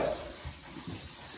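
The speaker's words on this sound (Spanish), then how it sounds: "Echar como medio litro de agua" Water pours from a tap into a pot, about half a litre for broccoli soup, a brief, close gushing splash that quickly settles into a softer trickle.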